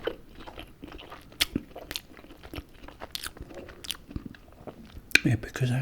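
Close, crisp bites and crunchy chewing of fried chicken strips in an ASMR eating session, with repeated sharp crunches and softer mastication throughout, loud and intimate.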